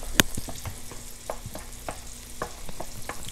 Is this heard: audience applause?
no